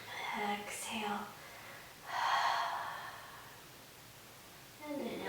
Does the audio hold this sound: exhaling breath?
yes